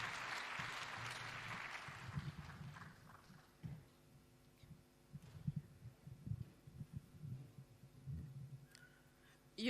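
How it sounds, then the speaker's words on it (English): Audience applause welcoming a speaker at the official opening of a microbiology laboratory, a brief wash of clapping at the start that gives way to faint, low, intermittent thumps and shuffles in a large, quiet hall. "We can clap for her as she's coming."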